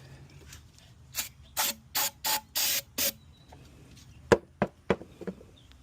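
Several short hissing bursts of brake cleaner spray on a 2017 Chevrolet Impala exhaust manifold come in quick succession, followed by a few brief scuffs and taps, close by with no talking.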